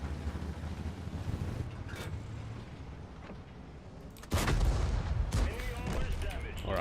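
Tank cannon in World of Tanks firing high-explosive rounds from a Swedish Strv 81, a loud booming blast around the four-second mark over constant engine rumble and wind, with smaller thuds before it.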